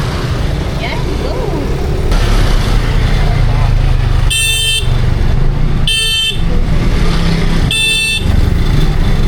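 Congested street traffic during a Christmas crowd in Taguig: a continuous engine rumble of cars and tricycles, with three loud, sharp car horn blasts cutting through and people chatting nearby.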